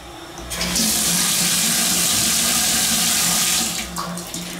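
Hotel bathtub faucet running at Paris Las Vegas, a loud steady gush of water that starts abruptly, holds for several seconds, then shuts off, no talk.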